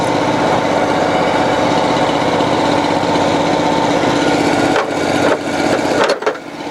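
A cold water jetter's engine idles while warming up, a loud, steady continuous drone close by, with some rustling and handling noises near the end.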